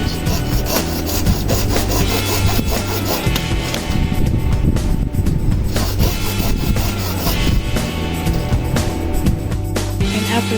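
Handsaw working through a LEGO T-Rex figure part, a dense continuous rasping scrape, loud and steady throughout with rhythmic stroke texture.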